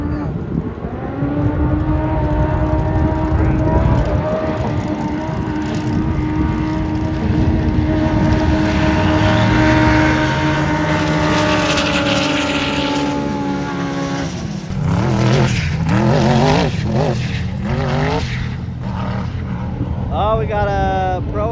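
Turbocharged ProR sand cars race across the Glamis dunes, engines roaring loud and sustained with rising and falling pitch as they pass, followed by a shorter burst of revving; voices talk over it.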